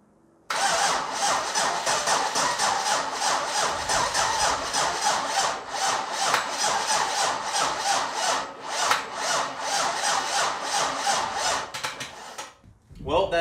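A freshly built engine cranking over on a weak battery gives a loud, steady, rapid rhythmic churning that runs unbroken for about twelve seconds, then stops abruptly.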